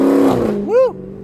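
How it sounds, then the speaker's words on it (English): A car with a loud engine drives past, a brief close roar that fades as a voice lets out a short whoop over it. "That's a nice car. Loud engine."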